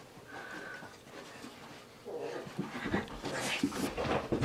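Two small dogs, a Shih Tzu and a Pug-Pomeranian cross, pant and scamper around a room indoors, with brief whimpers and scuffling growing busier and louder toward the end.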